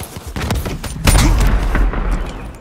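Pistol gunfire in the shooter game Black Ops 3, several sharp shots and thumps in quick succession, with a louder booming burst midway that fades out.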